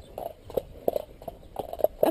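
A horse walks on from a halt, its hooves clip-clopping in an irregular rhythm of close, clear strikes, with a voice faintly audible underneath.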